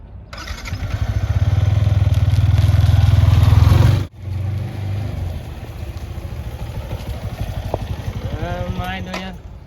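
A motorcycle engine idles loudly, then cuts off abruptly and restarts at a lower rumble; a voice speaks briefly near the end.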